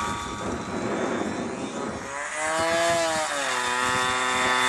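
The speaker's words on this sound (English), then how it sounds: "Fred does a close pass over the runway so we can all see how pretty his plane is." Model airplane making a close low pass over a runway at a winter fly-in, its buzzing engine swelling in pitch and loudness as it sweeps past, loud and alone.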